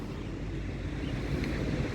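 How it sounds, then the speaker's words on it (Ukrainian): Rough sea surf on a beach in Durres, Albania, roars in a loud continuous wash with heavy wind buffeting the microphone, and no voices are heard. "Але головне це море. І воно сьогодні просто скажене."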